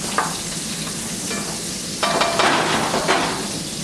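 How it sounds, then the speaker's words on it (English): Close, steady sizzling of garlic frying in hot oil in a pan, with a brief stir and a louder crackle partway through. "We want to let this get good and hot. We want to let it sizzle"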